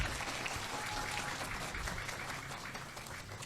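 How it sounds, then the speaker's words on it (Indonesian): Steady audience applause at a Qur'an talk show event, a dense, continuous wash of many hands clapping at moderate level with no voices over it. "Kita beri tepuk tangan dulu untuk Ustadzah Sarmini ya."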